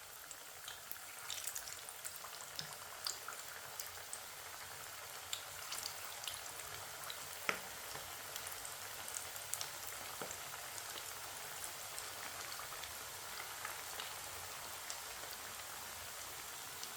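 Pea kababs (matar tikki) fry in hot oil, giving a faint, steady crackle and sizzle of scattered little pops that runs throughout with no voices.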